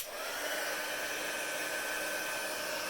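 A heat embossing tool runs as it warms up, giving a steady, even blowing whir with a faint thin whine on top, fairly quiet and with no voices.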